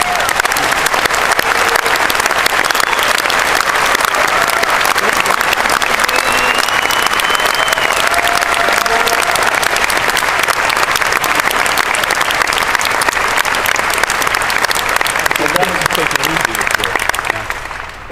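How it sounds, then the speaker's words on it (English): Sustained audience applause fills a conference hall after a talk, dense and steady clapping at full volume for about eighteen seconds, fading slightly only at the very end. "that applause was super well deserved"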